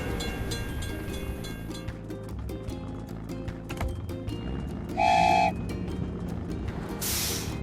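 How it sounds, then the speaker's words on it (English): An animated cartoon train rolls past a closed crossing gate with rhythmic rail clatter, bell-like dings and short whistle toots, steady and moderately loud with no talking. "We have to wait for the train to pass."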